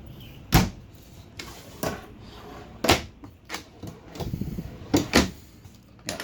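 Several sharp wooden knocks and slides of kitchen drawers held by plastic retainers in a 2017 Thor Windsport 35C motorhome, pulled open and pushed shut, spaced irregularly with short rattles between them, close by.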